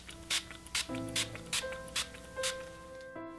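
Short bursts of Final Seal makeup setting spray misted during Halloween face makeup, about seven quick hissing puffs at a steady rhythm over soft background tones, close and moderately loud.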